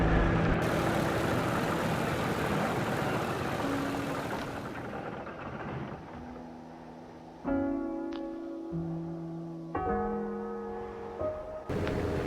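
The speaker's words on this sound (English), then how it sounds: "leave just the 2 wing engines continue running to try and save fuel" Two wing engines of an aircraft in a video game keep running over a cold ocean to save fuel, a steady loud drone with shifting tonal hums that changes pitch partway through, with no voices.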